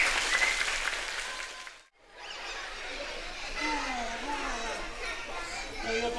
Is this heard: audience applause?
yes